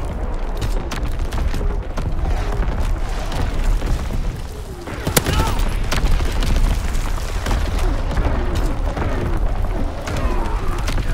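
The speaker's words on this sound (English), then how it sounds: "Incoming enemy artillery!" Incoming enemy artillery shells bursting in a WW2 shooter set on Gibraltar, dense rumbling booms layered with distant gunfire in a constant loud battlefield wash, one sharp crack near the middle.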